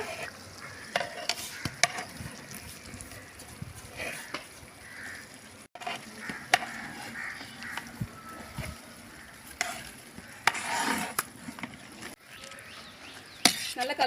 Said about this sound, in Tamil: வேக வச்ச கறி சேர்த்துடலாம் கலந்து விட்டுக்கோங்க